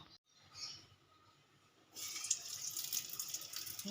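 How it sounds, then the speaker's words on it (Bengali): Jackfruit koftas drop into hot oil and set off a bright, steady hiss of sizzling close by, starting abruptly after a quiet moment. "এবার আমি তেলের মধ্যে দিয়ে দেব"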